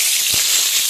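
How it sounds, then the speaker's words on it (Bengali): Whole dried red chillies, cardamom and cinnamon fry in hot mustard oil, a steady bright hissing sizzle with a faint knock of a spoon in the pan. "আর একটু সর্ষের তেল দিয়ে দিলাম, দিয়ে গোটা শুকনো লঙ্কা, এলাচ, দারচিনি"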